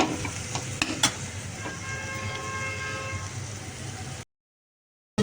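Water poured into a pan of sizzling tuna fish masala hisses and bubbles steadily at close range with a few sharp clatters, then cuts to brief silence.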